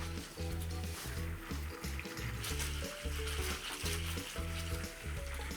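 A red wine and honey sauce for hamburg steak bubbling at a full boil in a pan, a steady close sizzle and crackle with rhythmic low bubbling pulses throughout, no voices.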